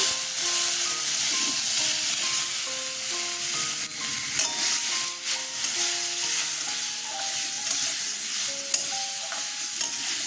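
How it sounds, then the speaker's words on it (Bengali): Gobindobhog rice coated with salt and turmeric frying in a pan, a steady loud sizzle with scraping stirs throughout and no talk. "চালে আমি নুন হলুদ মাখিয়ে নিয়েছি চালটা ছেড়ে দিচ্ছি"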